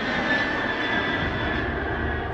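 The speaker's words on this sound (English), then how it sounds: "The screaming engines of a B-52 Stratofortress" The jet engines of a B-52 Stratofortress near an Air Force base give a loud, continuous roar with a steady high whine running through it, close and alone with no talk.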